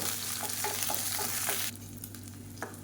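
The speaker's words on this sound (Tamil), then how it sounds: "இப்போ இதை வந்து நல்லா வதக்கிக்கலாம்" Steady loud sizzling of onions sautéing in hot oil, with faint stirring scrapes, continuous and close throughout.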